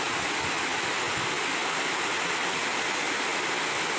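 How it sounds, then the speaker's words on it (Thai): Mae Aep creek rushes close by near Mae Aep waterfall in Mae Chaem, Chiang Mai, a steady broadband water roar that holds evenly for the whole stretch with no voices. "นี่เป็นห้วยแม่แอบนะครับ"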